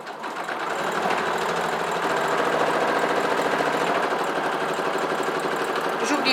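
A sewing machine stitches the seam of a fabric shoulder bag, a steady close-up mechanical buzz with fast, even needle rhythm that starts up and runs continuously.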